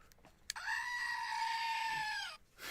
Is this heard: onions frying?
no